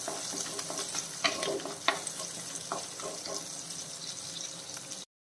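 Fenugreek and spices sizzle gently in a pan for a fishless fish curry. A spoon stirs and scrapes in the pan, adding clicks over the steady frying, and the sound stops abruptly after about five seconds.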